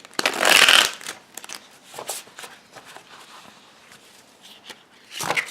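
Slippery tarot cards are shuffled in a loud riffling burst at the start, followed by softer handling and shuffling sounds and another riffle at the end, close up with no talk.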